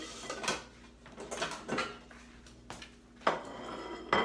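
A metal spoon clinks against a saucer and dishware in a kitchen, a handful of sharp close taps and clatters separated by brief pauses.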